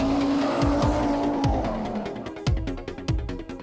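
A 1980 Audi Quattro driven hard, its engine droning steadily while tires squeal in repeated sharp bursts and skids, loud and close throughout.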